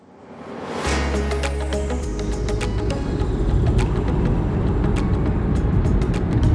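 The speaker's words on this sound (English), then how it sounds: "We are obviously driving onto Disney World property right now" A car's engine starts up and settles into a steady, close, droning rumble as it drives onto Walt Disney World property, with road noise building slightly.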